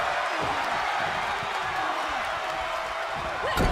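Arena crowd roars and cheers without letup at a wrestling show in the WWE 2K25 video game, with a steady loud wall of voices and a brief swell near the end.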